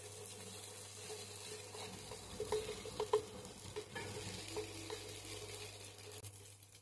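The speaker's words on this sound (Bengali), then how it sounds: "ডিমটা ভালোভাবে ভেজে নেব।" An egg frying in a pan alongside vegetables, a soft sizzle with light stirring and scraping clicks, fairly quiet and close, no voices.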